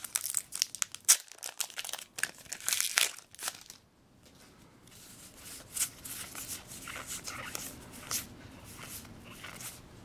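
A Magic: The Gathering M14 booster pack wrapper being torn open and handled up close, with sharp foil crinkles and rips in irregular bursts, then quieter rustling of the wrapper and cards.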